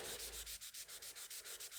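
Rhythmic hand sanding of a hard lacquered guitar body with 600-grit paper, quick back-and-forth rasping strokes, about eight in under two seconds, close and fairly quiet.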